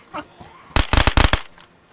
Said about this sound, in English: Whoa, you're shooting me!